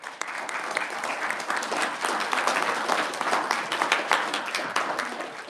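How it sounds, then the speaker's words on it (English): Applause from a Senate Committee on Federal and State Affairs hearing room for a visiting class, brisk, dense clapping from a modest group with individual claps audible, steady throughout. "let's have a big round of applause for our class here"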